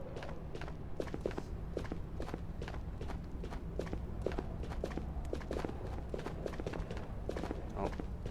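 Footsteps in the shooter game Ghosts of Tabor, a steady run of quick crunchy steps lasting throughout, moderately loud over a constant low background rumble with no talk.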